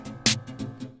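A sampled snare drum strikes once with a sharp, bright crack, set against a quieter repeating pattern of softer hits, close and dry.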